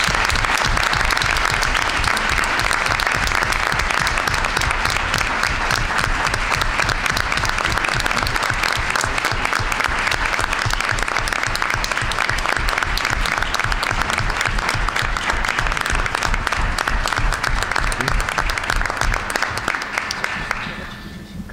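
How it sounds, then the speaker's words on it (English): Rousing applause fills a board of education meeting room, loud, close and sustained clapping from many hands at a brisk, even rhythm that carries on for about twenty seconds before tapering off at the end. "let's give a rousing round of applause to Chris Sombrano"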